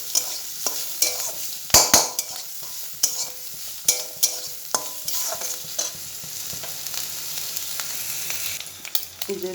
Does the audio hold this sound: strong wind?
no